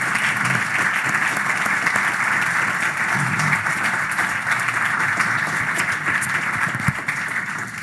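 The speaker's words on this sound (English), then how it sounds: "let's give our panelists a round of applause" Audience applause for the panelists at a live-streamed forum on race, social justice and school reform, a steady dense wash of clapping that stays loud and even for the whole stretch, with no voices over it.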